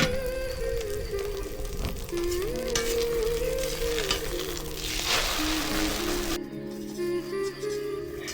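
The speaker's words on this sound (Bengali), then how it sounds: "ডিমটা কিন্তু আমার ভাজা হয়ে গেছে।" An egg fries in a wok with a continuous crackling sizzle and occasional stirring, while a pigeon coos faintly in the background.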